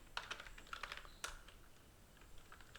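Quiet, close typing on a computer keyboard, with quick clusters of key clicks, a short pause, then a few sparser taps.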